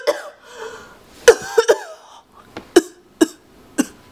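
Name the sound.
cough without covering mouth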